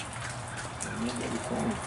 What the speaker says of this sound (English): We were gonna make a video today, but it's raining. See all the rain?